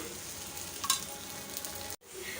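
Dosa frying in oil on a hot griddle over medium flame, a steady broadband sizzle with a brief louder crackle near the middle, then a sudden short cut before the frying hiss returns.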